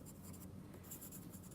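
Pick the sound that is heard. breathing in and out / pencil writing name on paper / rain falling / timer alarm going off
pencil writing name on paper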